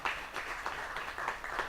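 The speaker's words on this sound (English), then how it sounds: "I'm going to give y'all a round of applause." A round of applause from a church-style congregation for a couple married thirteen years, heard as a soft, steady patter of many hands clapping at a distance, with no voices over it.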